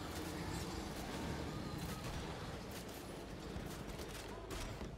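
Sustained bursts of video game gunfire from Wolfenstein: The Old Blood, a dense, continuous crackle of shots layered over a noisy battle din.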